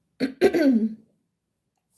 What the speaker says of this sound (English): sorry for clearing my throat so much